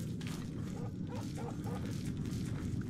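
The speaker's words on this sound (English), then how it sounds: "And there's a wolf right here." A wolf in the video game Oblivion gives a few soft growls and yips, low and close, over a steady rumbling game background that runs the whole time.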